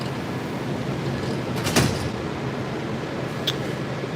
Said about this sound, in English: Step back. Doors open.